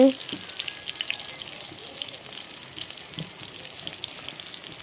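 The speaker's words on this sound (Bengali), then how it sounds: "তেলটা গরম হওয়ার পর বেগুনগুলো ভাজার জন্য বসিয়ে দিয়েছি।" Eggplant pieces frying in hot oil in a wok, a steady soft sizzle and crackle running throughout at moderate level, with a brief louder burst at the very start.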